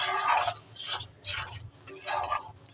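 Yogurt and cashew paste gravy stirred in a pan, heard as a few slow, separate bursts of wet scraping as the spoon drags through the thick sauce, close up with quiet gaps between strokes.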